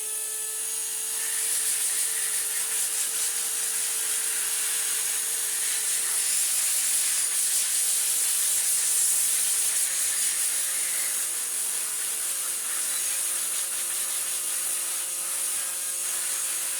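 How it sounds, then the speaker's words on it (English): A handheld air blower hisses steadily and loudly at close range, cleaning dust off the motor of a water-soaked Dyson V10 cordless vacuum, an unbroken high rushing jet with no talking. "get the apex blower out and just give the motor a bit of a clean off"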